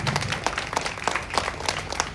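Crowd applause at a Navratri festival gathering welcoming a guest, rhythmic clapping from many hands, close and lively, with some rough beats across the whole stretch.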